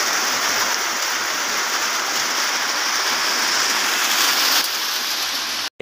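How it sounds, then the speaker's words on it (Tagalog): Heavy rain pours down near a bridge, a loud, dense and continuous hiss that fills the whole stretch without pause before cutting off abruptly at the end. "Kaya lang, ayun, lakas ng ulan."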